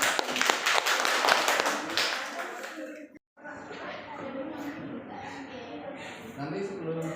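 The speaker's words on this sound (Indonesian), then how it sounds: "Kasih aplaus yang meriah." Audience applause at a talk or seminar, a dense burst of clapping for about three seconds that cuts off, followed by a person speaking over a murmuring room.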